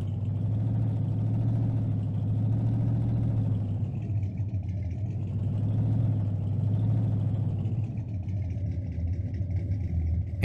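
A 1948 Chevrolet tow truck engine in a video game pulls forward with a steady, mid-pitched drone. It stays close and even for the whole stretch, with only slight swells in pitch and no talking.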